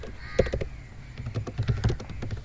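C code is typed on a computer keyboard as short, quick clusters of clicking keystrokes, close and moderately loud, with no voice.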